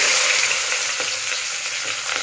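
Onions frying in hot oil in a pan give off a steady, close sizzle that carries on without a break and with no one talking.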